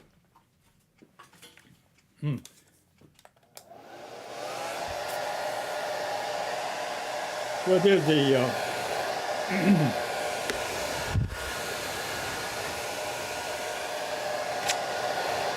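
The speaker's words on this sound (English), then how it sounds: "Now I'm going to get the blow dryer out." A hair dryer switches on and blows with a steady loud whoosh to dry watercolor paper, with a few brief taps and a short spoken phrase near the start.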